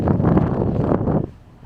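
Strong gusting wind buffets a microphone on an exposed fell summit at Hampsfell, a loud, close roar that rises and falls for about a second before easing off.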